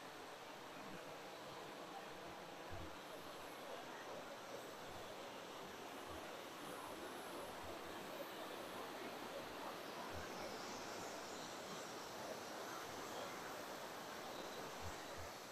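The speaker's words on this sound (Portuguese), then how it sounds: "Cachoeira é grande, hein, Natália?" A large waterfall roars with a steady, dense rush of falling water, loud and continuous throughout, with no clear speech over it.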